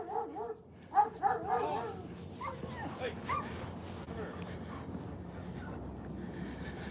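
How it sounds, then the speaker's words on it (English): A shepherd dog close by gives a few sharp barks and yips, then whimpers and whines in short bursts, with people talking quietly over an outdoor background. "Come on, let's not aggravate the dog."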